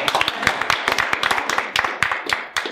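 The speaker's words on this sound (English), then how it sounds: "Good round of applause." Audience applause at a legislative forum, a dense crowd of quick overlapping claps filling a small room, steady for a few seconds before tapering off near the end.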